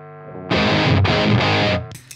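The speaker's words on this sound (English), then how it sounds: "Back off the distortion a little bit." A heavily distorted electric guitar chord through a budget hard-clipping distortion pedal rings out, cuts briefly, then sustains again before fading, gritty and loud.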